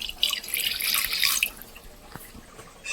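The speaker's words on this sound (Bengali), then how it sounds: "এটা হচ্ছে কেওড়া জল এটা দিয়ে দিলাম এর মধ্যে" Kewra water is poured into biryani masala in a home kitchen, making a steady splashing trickle for about a second and a half that then fades to quiet, with a light drip near the end.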